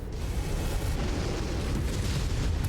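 Heavy explosion of a destroyed mech in the MechWarrior game, a loud sustained rumbling roar with crackling debris that fills the whole moment without any talk.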